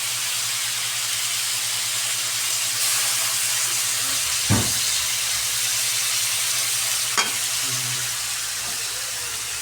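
Vegetables for pancit sizzle steadily in a hot wok as a little broth goes in, giving a hissing frying bed with two brief louder bursts of spatter and stirring, no talking.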